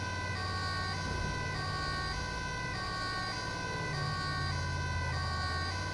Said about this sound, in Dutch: Hij lijkt een beetje op de politie sirene, maar dan is het de ambulance versie ervan.